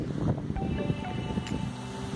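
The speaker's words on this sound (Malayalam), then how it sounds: "നല്ല കാറ്റുണ്ട്, നല്ല കാറ്റ്." Strong wind gusts across the microphone on the Oorakam Mala hilltop in Malappuram, Kerala, giving a steady, rough rumble with brief louder buffets throughout and no talking.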